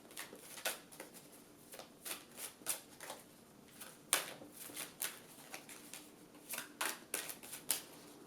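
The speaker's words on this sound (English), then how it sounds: "I'm so bad at shuffling." Tarot cards being shuffled by hand in quick riffling bursts, each a short papery flutter, repeating irregularly at a close, fairly quiet level with no talking.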